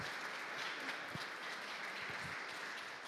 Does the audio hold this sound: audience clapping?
yes